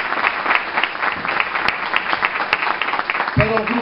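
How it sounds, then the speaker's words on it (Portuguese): A crowd applauds loudly and steadily at a mountain festival show, a dense wash of clapping with a few sharper claps and a brief voice near the end. "uma grande salva de palmas para eles"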